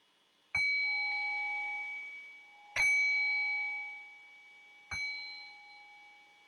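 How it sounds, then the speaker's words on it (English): A meditation bell is struck three times at even intervals, each clear metallic tone ringing out and slowly fading into near silence before the next. "I'll cue that by ringing the bell 3 times."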